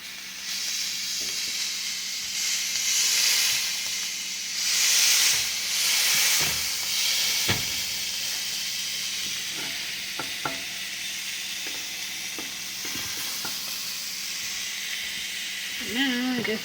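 Food sizzles steadily on a small cast iron griddle in a smoky kitchen, a continuous frying hiss with occasional soft clinks and taps, close and moderately loud.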